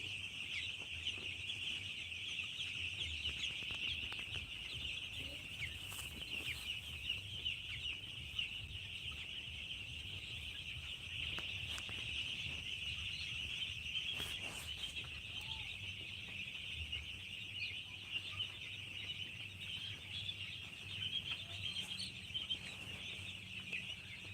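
Fifteen-day-old birds on a poultry farm keep up a dense, continuous chorus of high chirping and clucking. It sounds faint and distant and runs steadily throughout with no talk.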